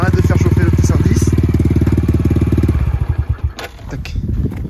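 A small 110 cc motorcycle engine idles while warming up, a steady close putter that loosens into uneven pulses near the end before settling again.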